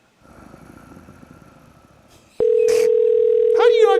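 On a morning radio show's giveaway call, an unanswered telephone line sends out a steady, loud, unbroken tone that starts abruptly after soft breathing-like noise, with a short burst of other sound over it.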